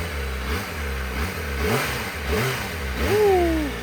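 Kawasaki ZX25RR motorcycle, a 2023 KRT edition with a smooth four-cylinder engine, revs up and down in several loud, close blips with rising and falling pitch through the exhaust; no talking.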